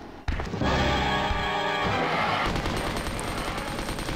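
A machine gun rattles off a rapid burst in Resident Evil 2, a loud, sustained stream of shots that begins abruptly and fades into a ringing tail.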